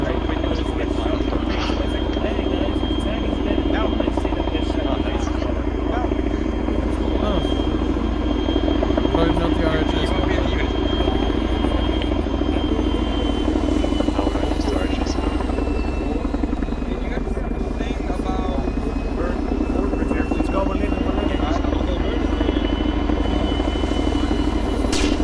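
Chinook twin-rotor helicopter arriving over an airsoft operation field, a loud, steady rotor drone with heavy low thump persisting throughout, voices occasionally talking beneath it.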